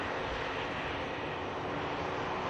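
A TUI Boeing 787 Dreamliner airliner at Manchester Airport, heard as a steady, even jet roar that stays at one level throughout, fairly distant and with no voices.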